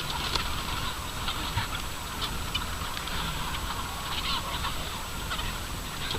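A large flock of chickens feeds excitedly on soaked wheat, a dense, steady clamor of pecking, scratching and scattered clucks close by, with no talk.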